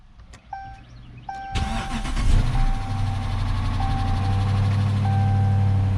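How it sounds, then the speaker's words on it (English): A 2018 AWD Dodge Charger police car with upper end clatter is started after chime tones, the starter cranking briefly before the engine catches and settles into a loud, close idle with a steady ticking clatter. "And you can hear that clatter, that upper end clatter that it's got, because it's been setting for a few days."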